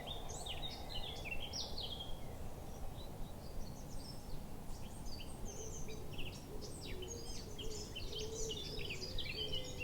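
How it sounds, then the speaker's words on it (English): Birds sing outdoors in a natural setting, with many short chirps and trills scattered across the whole stretch over a steady low rumble of wind or distant noise, moderately faint. "maybe the birds singing"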